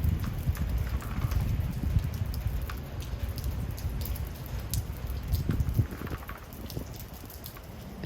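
Steady rain falls outdoors on a rainy day, a dense hiss and patter with scattered drop ticks that stays fairly constant and moderately loud throughout.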